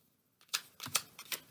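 Tarot cards being shuffled by hand give three or four crisp, quiet snaps in quick succession after a moment of near silence.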